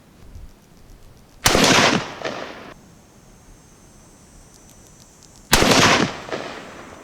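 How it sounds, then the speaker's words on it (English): A Savage Axis XP hunting rifle in .308 Winchester fires two loud, sharp shots about four seconds apart on a shooting range, each followed by a short echoing tail. "we're gonna shoot 3 rounds just so we know that that might not have been human error"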